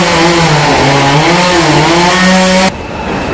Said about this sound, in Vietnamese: cũng đã cưa xong cây dầu